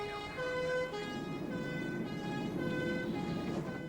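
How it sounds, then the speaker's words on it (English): An ambulance siren wails steadily over road traffic noise, its harmonic tone holding loud and continuous throughout. "Ambulance."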